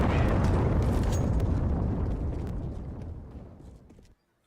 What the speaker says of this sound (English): bomb's about to go off